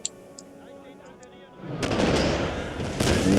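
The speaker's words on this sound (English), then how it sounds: "Opening barrage." Artillery opens a barrage in a video game battle: a quieter stretch gives way to a loud, sustained rumbling volley of overlapping booms that swells and keeps rolling.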